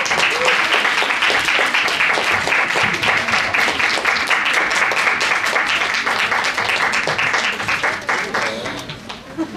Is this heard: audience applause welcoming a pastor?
yes